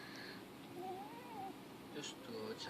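Small kitten giving a few short, thin meows amid indoor chatter, the mews brief and high, mixed with a voice talking nearby.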